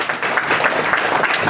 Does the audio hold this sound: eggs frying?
no